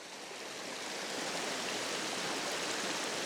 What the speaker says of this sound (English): This is the creek.